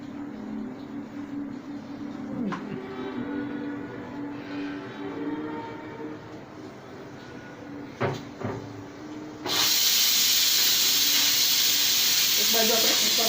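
Pressure cooker with eggplant and potato curry in a home kitchen: a low rumble with a couple of knocks, then the valve bursts into a loud continuous steam hiss for the last few seconds.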